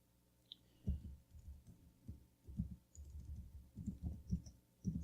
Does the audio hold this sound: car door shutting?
no